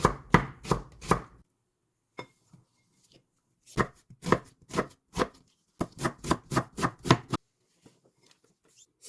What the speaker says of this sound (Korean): 청양고추도 송송 썰어주세요.